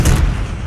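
A Semtex grenade detonates in Call of Duty: Black Ops 6, a loud, heavy low boom that bursts at once and then rumbles away over about half a second.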